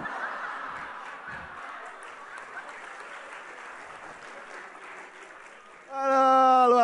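A stand-up comedy audience claps steadily for several seconds, a dense moderate patter that fades slightly before a loud tonal sound cuts in at the end.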